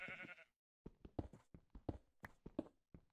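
Sheep bleating in a block-building video game, a series of short nasal bleats and soft thumps in a quick rhythm after a brief pause, close and clear.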